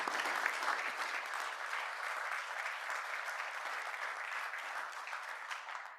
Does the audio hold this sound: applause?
yes